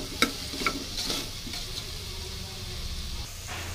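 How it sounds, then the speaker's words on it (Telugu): Spatula stirring chopped tomato pieces together with potato in a pan for veg biryani, with a few soft scraping clicks near the start over a steady low sizzle. "అలాగే 1 కప్పు టమాటా ముక్కలు చాలా బాగా కలుపుదాం।"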